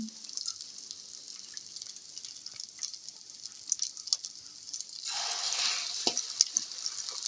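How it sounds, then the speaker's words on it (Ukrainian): Breaded chicken cutlets sizzle and crackle in hot oil, growing louder and fuller partway through as more pieces go into the pan. "в клярі змочую наступні наші відбивні і продовжую смажити"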